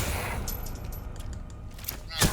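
A few sharp gunshots in the Resident Evil Requiem video game, spaced out and partly buried under steady background noise, with one louder crack near the end while a voice talks.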